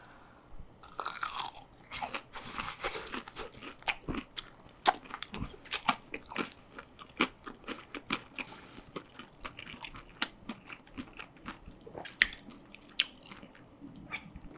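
Crunchy Blue Takis rolled tortilla chips being bitten and chewed up close, loud sharp crackling crunches in an irregular rapid stream, tapering into wetter, sparser chewing with occasional louder bites.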